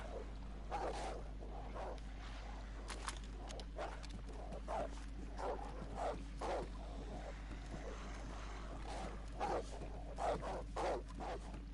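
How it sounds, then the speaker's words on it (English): A lot of dogs barking outside in the DayZ game world, distant and faint, repeated irregular barks scattered over a steady low hum. "Can hear a lot of dogs outside as well."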